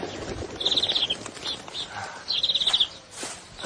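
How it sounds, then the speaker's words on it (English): Small birds tame enough to take food from the hand, giving two short bursts of rapid high chirps, close by over a soft ambient background. "I've never seen birds this tame."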